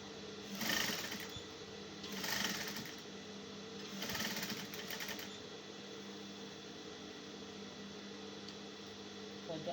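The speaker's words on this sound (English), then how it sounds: "I'll sew all the way to the armhole." A sewing machine stitches a seam on a cold-shoulder A-line shift dress, humming in three short bursts of rapid whirring with pauses between, steady and close, over a quiet room.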